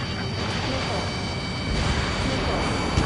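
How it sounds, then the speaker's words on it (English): Bombers droning across the sky in a flight combat game, a dense continuous engine roar that swells slightly partway through and stays loud throughout. "The bombers are nearing the island."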